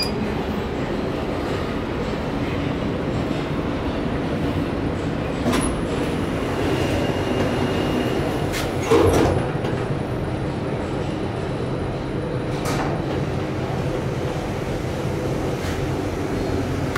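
A 1975 KONE inclined elevator runs at Rådhuset subway station in Stockholm, giving off a steady rumbling drone. Faint clanks and a brief knock come midway, with no talking.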